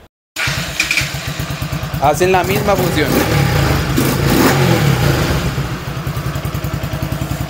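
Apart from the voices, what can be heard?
Bajaj NS 200 motorcycle starting and revving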